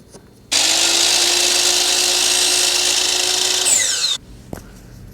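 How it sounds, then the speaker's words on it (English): A miter saw slices through a wooden dowel, cutting off a short piece: a loud, steady whining cut that starts abruptly, holds for about three and a half seconds, then winds down and stops. No one speaks. "I'm gonna head to my miter saw and cut off about 3 inches of this dowel"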